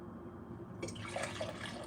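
Coffee poured from a pot into a cup, a faint low trickle that swells into a brighter splashing pour partway through, close and quiet, with no talking.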